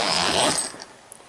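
A quick zipper pull on a cab enclosure door of a Polaris XP1000 rasps open, loud at first and then trailing off into quiet with a couple of small clicks.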